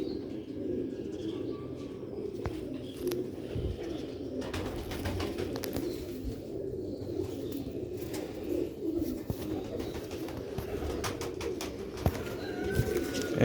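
Pigeons coo softly and continuously amid a busy loft, the low murmuring calls layered with occasional chirps, rustles and wing flutters, all at moderate distance.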